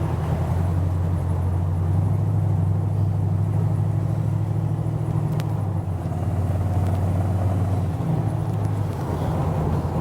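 A 1951 Chevrolet five-window pickup truck drives slowly through corners, its engine giving a steady low rumble heard from inside the cab, with a loud constant hum and no talking.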